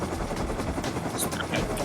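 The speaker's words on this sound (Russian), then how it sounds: "Коптер." Helicopter in the video game Rust, a dense continuous rotor chop and whine filling the short stretch, loud and close, with a voice briefly over it.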